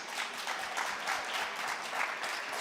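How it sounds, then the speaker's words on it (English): An audience at a festival in London gives a round of applause for the panelists, a dense, steady wash of clapping that stays even and moderately loud throughout. "Just a round of applause for my panelists, please."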